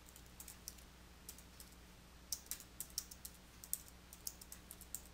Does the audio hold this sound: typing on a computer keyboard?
yes